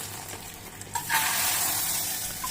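Hot tempering with curry leaves is poured into rasam, starting with quiet stirring and then a sudden loud sizzle that keeps hissing steadily to the end.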